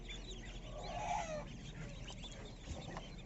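Local Pati ducklings, a pure desi duck breed, peep in a brief cluster of thin, high calls that swell near the middle, fairly faint over a soft rustling background.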